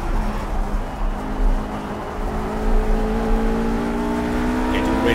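A RUF RGT 8 Porsche in the Project CARS racing game, lapping the Eifelwald circuit, holds a loud, continuous engine drone whose pitch climbs steadily as it revs.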